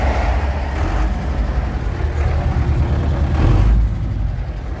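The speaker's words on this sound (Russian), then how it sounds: "Так, ну что, трактор завелся." A tractor engine runs steadily just after starting, a loud, rough low rumble that holds constant throughout with no speech.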